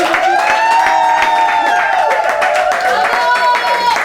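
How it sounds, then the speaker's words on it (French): An audience applauds at a live French comedy show, with clapping and cheering under a loud, sustained tone and voices. "on applaudit pour elle"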